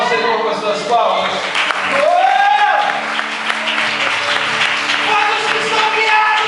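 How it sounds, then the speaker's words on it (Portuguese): A church congregation at a conference service claps together, the steady clapping running beneath loud voices and tonal sound throughout. "Você pode glorificar o Senhor com as suas palmas?"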